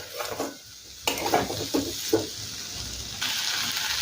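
Potatoes and okra stir-fried with masala in a pan for a Bengali bhindi aloo curry: spoon scrapes and stirring bursts over a steady low sizzle, fairly close, with no talking.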